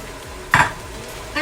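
Beef and broccoli stirred in a frying pan: a single brief scrape of a utensil against the pan over a soft sizzle, with another light touch at the end.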